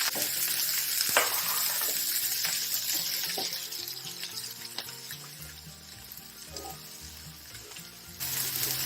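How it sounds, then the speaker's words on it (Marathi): Chopped onion sautés in a pan for a Khandeshi-style vegetable dish, giving a steady, close sizzle that runs unbroken through the whole stretch with faint stirring and no voices. "कांदा लाल होईपर्यंत परतून घेऊ"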